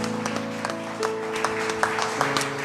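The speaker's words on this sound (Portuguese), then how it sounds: "Salva de palmas bem fortes para o Senhor." A church congregation applauding, a steady patter of claps with a few sharper accents, heard under sustained organ or keyboard chords.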